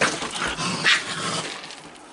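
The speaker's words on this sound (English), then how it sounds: "Listen to the growlings." A dog growls in a low, rumbling stretch, close by and fairly steady, with a slight swell partway through.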